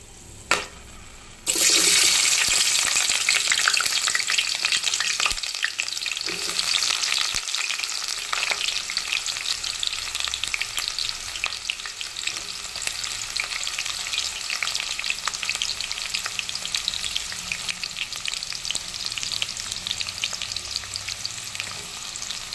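Onions, cloves, cinnamon and cardamom drop into hot oil in a kadai and burst into a loud, steady sizzle that continues with occasional stirring.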